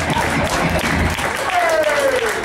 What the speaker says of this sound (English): Y'all clap up for Spoken.